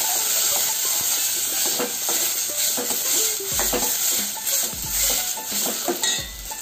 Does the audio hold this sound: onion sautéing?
yes